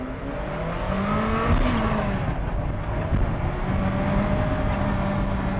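Ferrari F40 engine revving hard under acceleration, a loud sustained roar with rising and shifting pitch as the car pulls, heard from inside or near the car.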